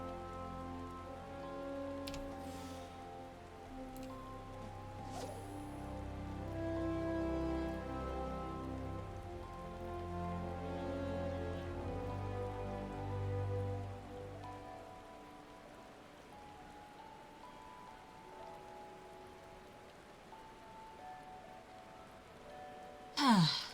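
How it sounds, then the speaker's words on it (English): Steady rain falling in the video game Final Fantasy XIV, a soft continuous patter under layered game music, with a brief sharp sound at the very end. "I like rain noises."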